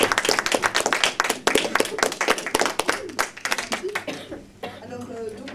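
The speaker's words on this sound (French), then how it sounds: "On l'applaudit bien fort." An audience at a small stage show claps in a burst of close, rapid, uneven applause that thins out toward the end, with a voice speaking over it.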